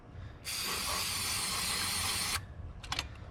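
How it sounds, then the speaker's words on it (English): A single continuous aerosol spray onto a 1991 Firebird Trans Am's distributor hisses for about two seconds, close and fairly loud, followed by a few faint clicks. "Spray the distributor, that's good too."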